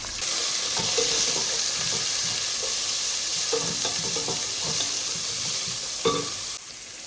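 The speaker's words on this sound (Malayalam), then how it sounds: "അങ്ങനെ ക്യാപ്സിക്കും ക്യാരറ്റും കൂടി ഇട്ടിട്ട് ഒന്ന് ഇളക്കിയെടുക്കാം" Capsicum and carrot stir-fried for duck noodles, a steady close sizzle running throughout with scraping stir strokes of the spatula against the pan, no talking.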